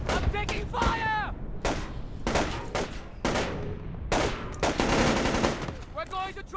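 Gunfire rings out in the Splinter Cell Chaos Theory video game as loud, close bursts of rapid automatic shots. Short pauses break up the volleys, and shouted voices come through between them.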